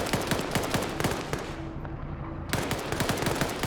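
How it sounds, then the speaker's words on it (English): Rapid automatic gunfire from a competitive multiplayer shooter match, loud bursts of close shots that pause briefly in the middle, then resume in a dense rattling volley. "Oh, he opens fire"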